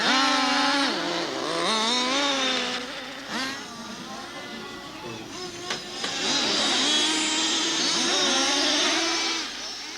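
Model racing cars scream into a tight bend, their buzzing motors rising and falling in pitch as several pass close by, loud and continuous with wavering whines.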